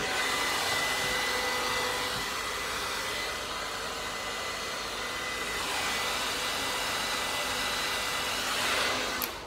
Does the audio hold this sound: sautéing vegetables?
no